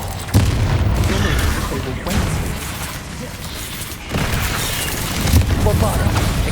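Spell explosions from Confringo and Bombarda cast in the Hogwarts Legacy video game, a continuous loud barrage of booming blasts and bursts that rises and falls, with a voice speaking under the combat noise.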